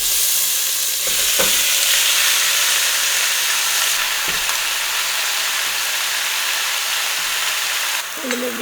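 Steak frying in a little oil in a hot pan while breakfast burritos are made, a loud continuous sizzle with brief clanks of the pan, steady throughout.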